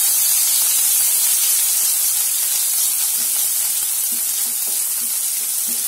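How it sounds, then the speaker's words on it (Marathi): Ginger garlic paste sautéing in hot oil with cumin and mustard seeds for egg masala, giving a loud, steady sizzling hiss with a few soft stirring taps near the end. "यात आपण आलं लसूणची पेस्ट घ्यायची. त्याला चांगलं परतून घ्यायचं."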